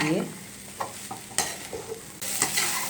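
Green bean bhaji frying in ghee is stirred in a pan, giving close scraping stirs over a steady sizzle, with a louder burst of frying near the end.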